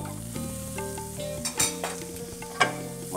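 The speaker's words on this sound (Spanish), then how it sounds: "colocamos un poco de mantequilla en nuestra sartén" Butter melts and sizzles in a frying pan over a low flame while French toast is prepared, giving a soft, steady crackle with a few sharper clicks and scrapes.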